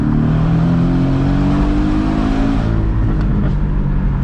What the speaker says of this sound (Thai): คันนี้เป็น Porsche 718 นะครับ ตัวเปิดหลังคานะฮะ มาจัดชุดท่อสูตรยูโรอาร์ตนะครับ